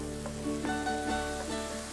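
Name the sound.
sliced garlic sizzling in hot oil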